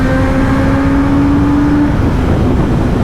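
A superbike engine roars steadily at high revs while riding through a tunnel, the loud reverberant drone holding a rising whine before easing slightly near the end.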